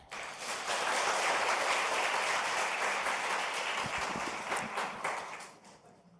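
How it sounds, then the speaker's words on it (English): An audience at a parliamentary library conference welcomes a speaker with sustained applause, a broad dense clapping that swells quickly, holds steady, then fades out near the end. "Please welcome her with a round of applause."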